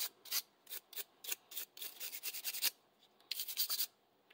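Bristle brush scrubbing inside a Panzer M4 shotgun during a post-650-round cleaning, a quiet run of short, dry scratchy strokes in irregular bursts, close up with no talking.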